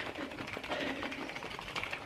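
A steady mechanical whirring buzz of a small electric frother mixing milk for coffee, running continuously up close.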